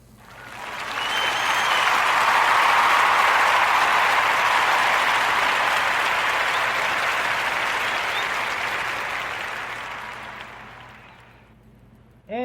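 Podcast audience gives a warm round of applause, a dense sustained clapping that swells within a couple of seconds, holds for several seconds and then tapers off toward the end.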